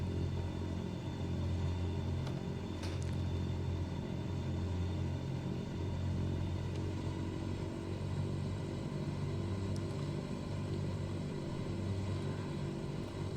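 A Beechcraft King Air 350 in a flight simulator taxis with its turboprop engines held at low idle, giving a constant low rumble with a faint steady whine above it, uninterrupted and even throughout.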